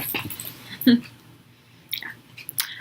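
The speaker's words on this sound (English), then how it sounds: "As you can see, Tomash loves his rawhide" A dog gnaws on a rawhide bone nearby, making several loud, uneven crunching and chewing bursts separated by short pauses, with no talking.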